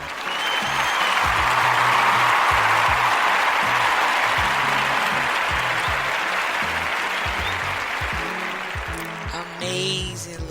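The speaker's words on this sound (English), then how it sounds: "Let's give her a little applause, y'all." Studio audience on a talk show gives a warm, sustained round of applause that holds steady for about ten seconds, with faint background music under it and a few voices near the end.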